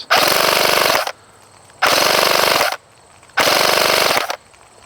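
A KWA airsoft rifle fires three full-auto bursts of about one second each, a rapid, loud mechanical buzz of up to 24 rounds per second, with brief quiet gaps between bursts.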